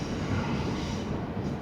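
A steady, loud rumble of a train rolling past nearby in Cornwall, continuous broadband roar without voices.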